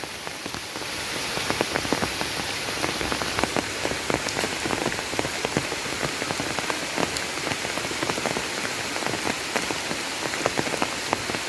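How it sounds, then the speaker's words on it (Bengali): Heavy record rain in Chandpur in August, a dense steady hiss of rain on surfaces with crisp scattered drop impacts throughout, close and unbroken, no talking. "বৃষ্টি তো হয়েছে বৃষ্টির মতন একদম"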